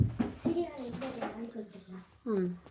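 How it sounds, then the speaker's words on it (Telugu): A dog whimpering and yipping in short, rising whines close by, with a voice talking intermittently over the cries. "సిరి సిరి కుక్కలు ఉంటాయి జాగ్రత్త"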